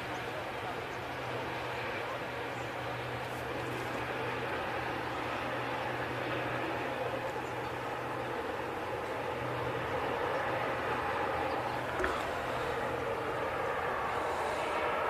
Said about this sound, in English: We've also got a Etihad Dreamliner taxiing out as well.